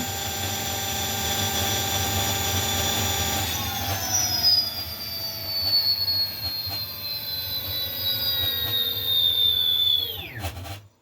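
QSmotor electric motor driven by a Votol controller spins at maximum speed, a steady high electric whine with a tonal shift partway through, then a quick downward sweep as it winds down at the end.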